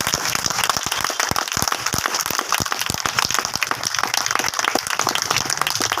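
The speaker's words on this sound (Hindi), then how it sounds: "एक बार हाथ ऊपर उठा के शानदार तालियां बजा दी जाए" An audience at a small roadside meeting breaks into steady, dense applause, many hands clapping continuously and fairly close throughout.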